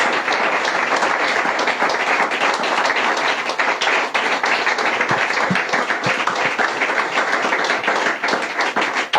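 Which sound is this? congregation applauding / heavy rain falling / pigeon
congregation applauding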